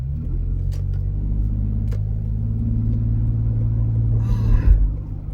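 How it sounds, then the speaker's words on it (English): A car engine rumbles steadily and loudly throughout, a low continuous drone with a slight swell near the end. "You might not have heard it because of the engine noise."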